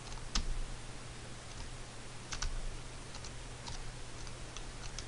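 Computer arrow keys pressed to move a character in a Java game, a scattering of soft, quick clicks in small clusters over a steady electrical hum, fairly close and quiet.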